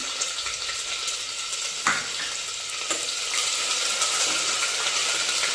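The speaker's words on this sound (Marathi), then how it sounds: "ते एक मिनटं व्यवस्थित फ्राय करून घ्यायचं" Ginger and garlic frying in a pan for matar paneer pulao, a constant close sizzle broken by a few sharp scrapes and clinks of a spoon stirring.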